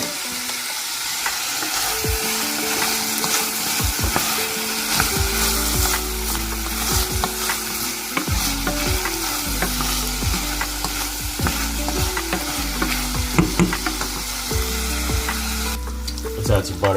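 Vegetables softening in a pot with kosher salt as a flavor base for ramen, a loud continuous sizzle with repeated scraping and stirring clatter against the pot, no voices.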